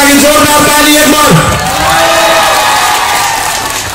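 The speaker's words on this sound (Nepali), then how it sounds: "उहाँहरूको लागि जोरदार ताली एकदम।" Applause and cheering for guests called up on stage at a Tamang convention, loud dense clapping and crowd noise with a voice speaking over it early on.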